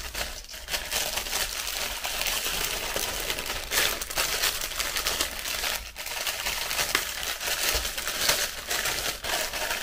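A small plastic cosmetics packet crinkles and rustles steadily while being handled up close, with dense, continuous crackling broken by a few sharper crunches and no talking.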